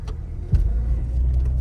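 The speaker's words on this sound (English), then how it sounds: "We do have her in 4-wheel drive, so we're just gonna like kind of drive on the grass over here" A four-wheel-drive car engine hums steadily as the vehicle drives across grass out of a ditch, with a low rumble, a brief thump partway through and continuous close motor drone.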